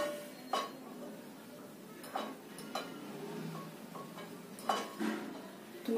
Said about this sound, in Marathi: तेच पाणी आपण याच्यामध्ये पिठामध्ये घालून घेणार आहोत